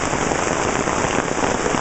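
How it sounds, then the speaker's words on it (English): Heavy rain pours down in a dense, loud, continuous patter on surrounding surfaces, close and steady with no voices. "It's a very rainy day."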